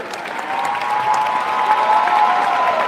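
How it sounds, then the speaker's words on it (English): An indoor audience at an Immigrants' Day event at the State House claps steadily, a dense wash of applause that stays fairly loud and even throughout, with a faint voice underneath. "Big applause for Representative Hong,"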